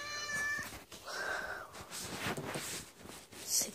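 A cat meows several times close by, drawn-out plaintive calls with short pauses between them.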